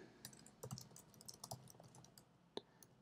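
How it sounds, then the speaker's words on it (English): Quiet, rapid keystrokes on a computer keyboard while typing text into Notepad, heard as irregular clicks and taps spread across the clip with short pauses between bursts. "let's type in some more stuff"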